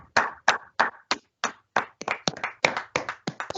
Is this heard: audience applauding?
yes